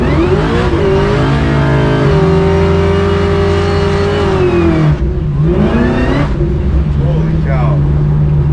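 A 750-horsepower supercharged LSA V8 Chevy Nova pro street car revs loudly and accelerates hard, its engine pitch climbing, holding, then dropping and rising again in close, powerful bursts.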